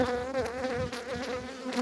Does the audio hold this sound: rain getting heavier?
no